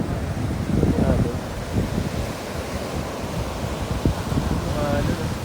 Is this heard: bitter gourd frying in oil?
no